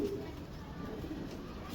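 Purebred Karachi-game pigeons give soft, low, throaty coos, close by and steady, with faint background murmuring.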